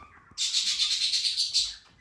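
A bird chirps rapidly and continuously for over a second, bright and fairly loud, a fluttering run of high tweets against quiet background.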